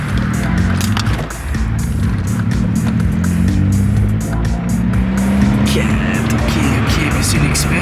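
Cars pass steadily on a road around a manual car stopped for a left turn, a continuous near rumble of engines and tires, with people talking over it.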